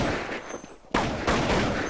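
Counter-Strike gunfire on the de_inferno map during a tournament match, a sharp burst of shots followed after a brief gap by another loud crack, close and punchy.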